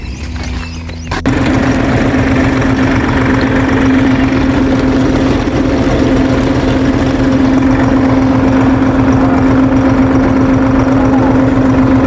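Tractor engine running steadily while sowing peanuts in a field, a loud close droning rumble with an even low throb that starts after a brief quieter moment and continues throughout, no talk.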